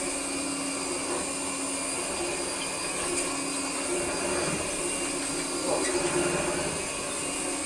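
A 1929 Hoover 700 vintage vacuum cleaner runs on carpet with a steady, loud whining hum and faint rattling bursts throughout.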